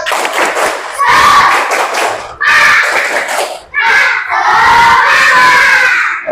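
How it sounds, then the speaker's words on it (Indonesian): A class of schoolchildren claps and chants a spirit cheer together in loud, rhythmic bursts, several shouted phrases separated by short pauses, close and filling the room. "Coba tepuk semangat."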